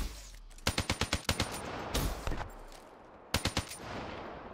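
Video game gunfire rattles out in quick automatic bursts of sharp shots, with a short pause between clusters and a final burst after a quieter stretch.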